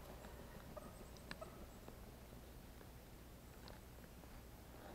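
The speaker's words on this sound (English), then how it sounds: "Oh, that was a turkey." Faint wild turkey gobbles sound in the distance, a few short bursts over quiet outdoor background.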